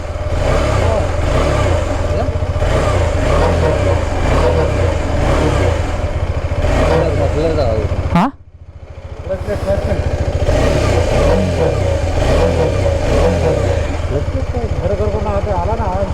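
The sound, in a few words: motorcycle engine revving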